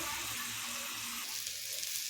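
Water spinach and potatoes sizzle and fry in a pan, a steady hiss with faint stirring scrapes underneath.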